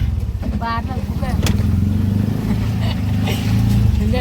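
A motorbike rides past near a flooded, fast-running stream at Richa village after rain, its engine a steady low rumble with revving swells throughout, close to the microphone, with people talking over it.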